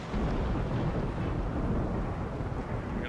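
Rain and thunder from the video game RimWorld: a dense, steady hiss of rainfall over a deep, continuous low rumble, fairly quiet, with no talking.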